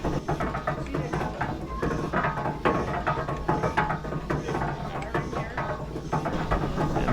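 A 108-year-old steam donkey engine runs with a steady mechanical clatter of rattling, ratcheting parts and low rumble, fairly loud and continuous throughout.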